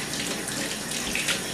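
Warm tap water runs steadily from a faucet to rinse a cat, a continuous close splashing hiss with no talking.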